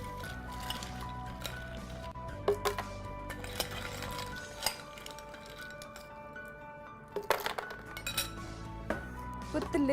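Ice cubes clink and knock into a blender jar alongside blueberries, mint and lime for a drink, a run of sharp glassy clinks and thuds, close and clear, with brief bursts of rattling near the end.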